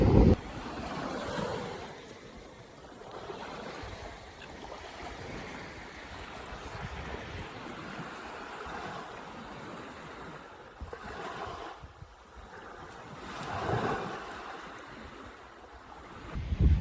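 Surf rolls onto a white sandy beach on the Cape York Peninsula coast, a steady wash of breaking waves with gusts of wind buffeting the microphone and a few louder surges, no voices.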